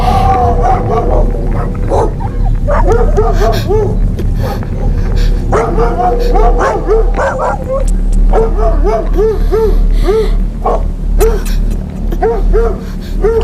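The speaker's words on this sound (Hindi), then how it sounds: "डॉग्स हर जगह, यहाँ और वहाँ।" Several dogs yelping, whining and barking in short bursts across a continuous dense background, loud and close, with the calls rising and falling in rapid clusters.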